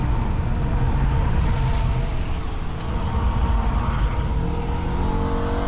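Holden VF Ute engine lapping the Nürburgring, a loud steady drone of revving with a gear upshift, heard close and continuous with no talk.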